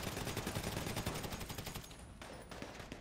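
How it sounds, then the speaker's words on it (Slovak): Rapid gunfire from a shooter video game, dense bursts of automatic shots in quick succession, loud and close, tapering off toward the end with no talk over it. "Zo spodu od budovy po tebe takto strieľa."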